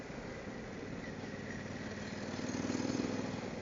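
A Harley-Davidson Pan-American motorcycle engine thrums steadily while riding, a faint, even mid-pitched drone with slight swells toward the end.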